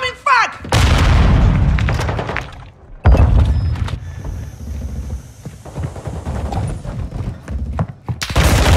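A frag grenade explodes in Call of Duty Modern Warfare II online multiplayer: a loud, heavy boom erupts near the start, followed by a second big blast a few seconds later, with rumbling gunfire and battle noise throughout.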